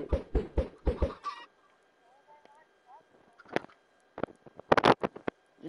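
Chickens clucking in the video game Minecraft: several sharp, rapid clucks at the start, then quieter gaps, with more bursts of clucking near the end, fairly close and loud.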